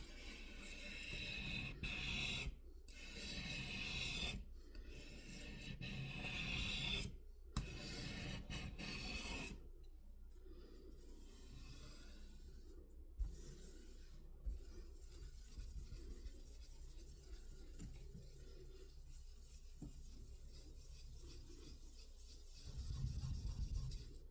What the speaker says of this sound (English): Just trying to get the blade just under whatever is stuck.